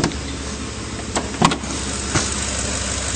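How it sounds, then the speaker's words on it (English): A 2010 Ford F-150 pickup engine idles steadily with a low, even rumble, broken by a few brief clicks and knocks. "Nice clean engine bay, and it's running very smoothly."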